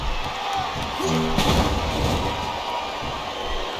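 Wrestling arena crowd at a WWE Hell in a Cell event, a steady roaring murmur of spectators filling the hall, with a brief louder surge midway.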